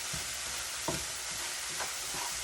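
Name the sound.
garlic frying in a pan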